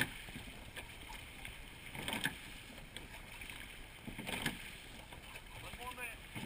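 A seine boat is rowed through choppy Southwest chop off Gloucester, Massachusetts, with faint water splashes and oar strokes under wind noise and a rower's voice in the distance.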